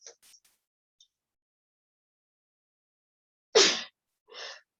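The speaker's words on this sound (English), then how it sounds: "Excuse me, I'm going to sneeze." A single sharp sneeze bursts out after near silence, followed by a short breathy exhale or sniff, with faint small noises at the start.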